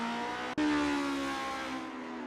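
Formula race car engine in a 1963 Lake Garnett round of a video game championship, a sustained high-pitched engine whine with a brief gear-change dropout, then climbing revs that slowly fade, no voices.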